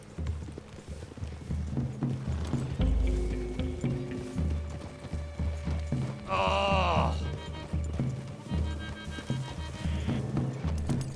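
Horses in Red Dead Redemption 2 clip-clop at a trot through trees, hooves steady under ambient music and brief voices.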